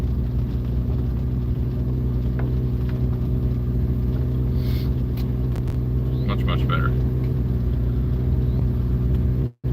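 Engine of a 1974 Volvo car on the road, a steady low rumble with road noise heard from inside, while a person talks briefly over it.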